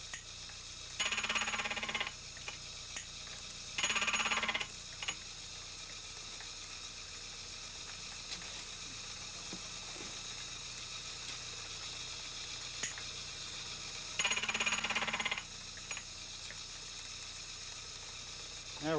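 A lever-feed cutting machine works the teeth on a one-piece clock barrel, producing three brief bursts of bright metallic grinding chatter separated by long stretches of low shop hum and small clicks.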